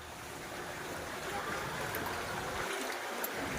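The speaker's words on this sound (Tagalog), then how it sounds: "umaagos na yung tubig o" Floodwater from a river runs through flooded land in Calumpit, Bulacan as a steady, continuous broadband rush. The flow is fairly close, holds an even level and has no speech over it.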